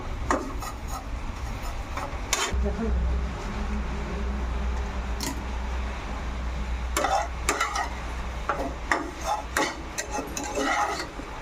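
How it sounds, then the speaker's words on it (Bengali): Vermicelli frying in a pan gives a steady low sizzle, while a spoon or spatula scrapes and stirs in repeated bursts, fairly close, with no talk. "এই যে ভাজা হচ্ছে,"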